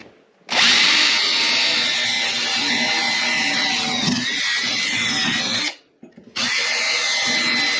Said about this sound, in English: I'm going to drill these rivets out.